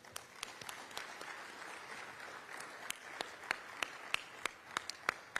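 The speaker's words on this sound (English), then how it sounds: "Let's give them a big round of applause" Scattered clapping comes from an audience at a Philadelphia officials' announcement, sparse and fairly quiet at first, with sharper individual claps standing out toward the end.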